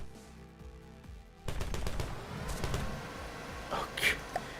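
A vehicle-mounted gun fires in a Wreckfest car game: after a quiet start, a rapid burst of sharp repeated shots, then scattered blasts and a louder bang near the end, with talk over parts of it.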